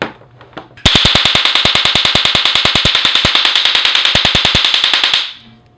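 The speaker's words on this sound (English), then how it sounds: "But for now, here is the Firecracker." An electronic firecracker goes off after a quiet moment, a rapid, very loud string of sharp cracks at an even machine-gun pace for about four and a half seconds before stopping abruptly.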